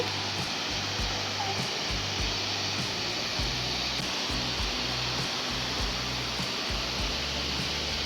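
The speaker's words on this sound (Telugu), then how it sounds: "ఇప్పుడు మనం అబ్బి ఫాల్స్ దగ్గరికి రీచ్ అయిపోయాం" Abbi Falls in Coorg, Karnataka, gives off a dense, continuous roar of falling water, loud and steady, with a low rumble underneath.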